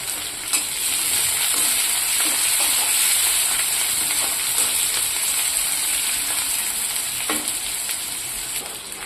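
Chopped onion sizzling steadily in a hot pan with oil, a continuous close crackle and hiss with occasional stirring scrapes, no voices.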